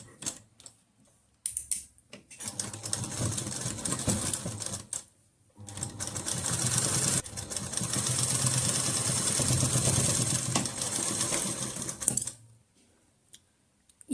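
A sewing machine stitches the collar neck of a kurti in long, steady whirring runs separated by short pauses, with a few brief clicks and no talk.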